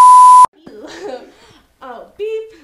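A loud, pure censor beep tone sounds for half a second and cuts off abruptly, followed by playful speech and a bit of laughter.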